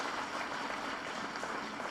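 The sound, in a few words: applause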